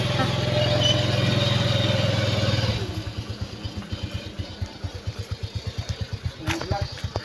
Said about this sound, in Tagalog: Ito po yung sa aming motor.